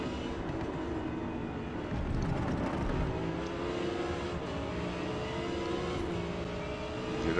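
Audi R8 GT-class race car lapping Yas Marina in Forza Motorsport, its engine droning steadily with rising and falling revs through gear changes, loud and continuous without talk.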